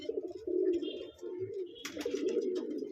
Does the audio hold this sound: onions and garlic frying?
no